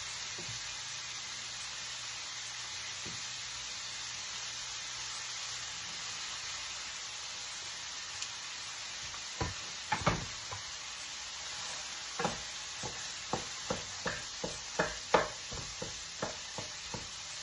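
Bacon cooks in a pan with a steady low hiss and sizzle, then a run of sharp utensil taps and scrapes comes in at a fairly regular pace toward the end.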